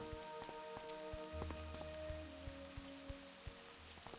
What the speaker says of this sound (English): you're just walking in the rain in hardcore WoW